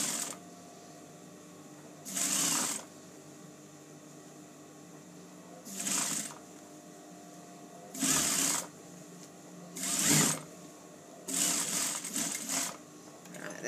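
A sewing machine stitches a sleeve into a small dress armhole, running in five separate bursts of about a second each with quiet pauses between, close and clear with no talk.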